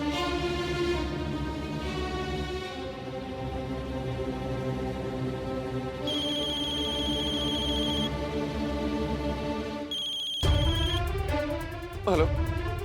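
A phone call rings through in repeated electronic tones and a ringtone melody, heard over dramatic background music, with a sharp musical sting near the end.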